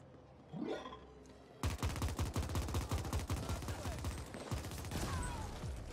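Gunfire in the top-down sci-fi shooter The Ascent: after a brief rising whoosh, a rapid burst of automatic shots erupts and keeps rattling steadily, loud and close, with no talking.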